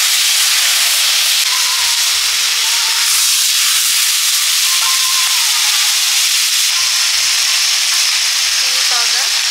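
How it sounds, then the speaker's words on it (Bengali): Ground spice paste of cumin, ginger and green chilli, with slit green chillies, sizzling loudly in hot oil in a Bengali village kitchen, a steady dense frying hiss throughout with no talk. "বাটা মশলাগুলো দিয়ে দেবো। এখানে জিরে, আদা, কাঁচা লঙ্কা একসঙ্গে বাটা আছে, আর কয়েকটা কাঁচা লঙ্কা চেরা একসঙ্গে দিয়ে দিচ্ছি"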